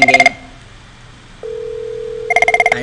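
An IP phone in a CCNA voice lab gives short bursts of trilling ring tones at the start and end, with a steady tone sounding between them, close and clear.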